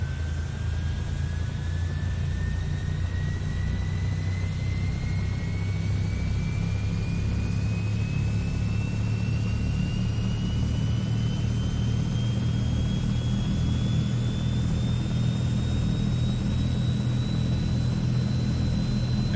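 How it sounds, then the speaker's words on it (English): Turbine engine number two of a C160 Transall in a flight simulator spools up with a steady rising whine over a constant low engine drone, loud and continuous throughout. "And that is a good start on engine number 2."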